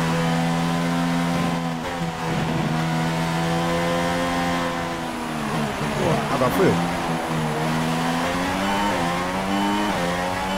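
An F1 race car engine at Silverstone in the F1 2016 video game, played on a G27 wheel, drones loudly and continuously, its pitch dropping and rising through gear changes under someone talking.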